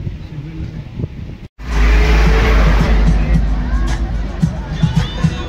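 Busy road traffic at the Mahabaleshwar hill station, with a loud steady rumble of engines and crowd babble that persists after a brief dropout, as if heard from inside a moving vehicle.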